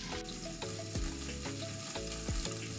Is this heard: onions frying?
yes